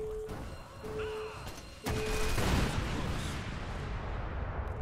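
Rocket fire in Crackdown: after a few tonal beeps, a sharp launch and a big booming blast roll out loudly, decaying into a long rumbling tail.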